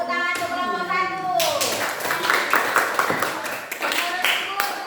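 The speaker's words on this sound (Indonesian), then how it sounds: "Tepuk tangan untuk kelompok 1." A classroom of children claps for a presenting group, the applause rising suddenly after a teacher's voice and continuing as a dense, even patter with some chatter mixed in.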